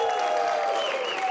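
Applause from a studio audience at a Georgian TV talk show, a brief dense burst of clapping with no talk over it.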